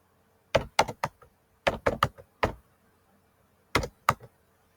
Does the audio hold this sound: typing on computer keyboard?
yes